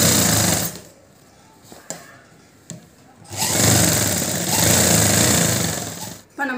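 Short bursts of a sewing machine stitching a school uniform coat's collar neck: a brief run, a pause with light clicks, then a longer steady mechanical whirring run that stops abruptly.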